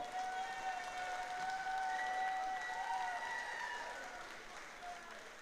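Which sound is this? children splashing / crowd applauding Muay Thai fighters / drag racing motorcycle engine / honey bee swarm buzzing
crowd applauding Muay Thai fighters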